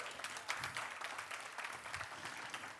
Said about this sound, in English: let's all applaud again